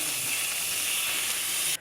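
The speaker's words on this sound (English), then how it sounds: "Now that my onion has browned, I'm going to go ahead and add 1 pound of ground beef." A pound of ground beef hits a hot pan over already browned onion, giving a steady, loud, even sizzling hiss that runs unbroken for nearly two seconds and then cuts off abruptly.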